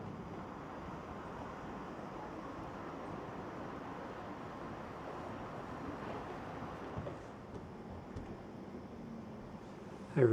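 Wind blowing steadily across the open walkway of the Hwaseong fortress city wall in Suwon, a broad, constant rush with microphone buffeting that holds for the whole stretch and swells briefly near the end.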